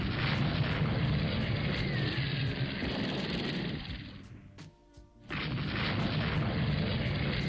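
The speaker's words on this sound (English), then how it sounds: "Torpedo impact on the Austrian monster." A torpedo strikes a battleship in the naval strategy game Rule the Waves 3, heard as a heavy rumbling boom with roaring noise that drops off briefly and then surges back.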